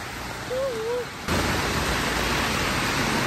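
Heavy rain pours in a broad, steady hiss while someone out in it walks with a pet dog, the downpour loudening halfway through; a brief voice-like tone rises over it early on.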